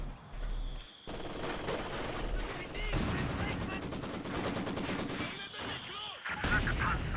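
Battle in Company of Heroes 2 with rapid machine-gun bursts rattling almost nonstop, punctuated by heavier thumping mortar impacts, all loud and close in a dense, continuous barrage.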